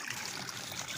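Water seeps and trickles through cracks in the old concrete of the Badajoda dam in Odisha, a faint, steady rushing hiss with no distinct splashes and no talk.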